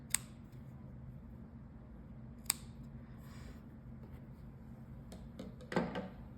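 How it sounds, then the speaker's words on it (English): Scissors snip off the ends of crochet yarn on a Christmas stocking, a couple of faint, quick clicks in a quiet room with a slightly louder cut near the end. "you can just cut the ends off as short as you want"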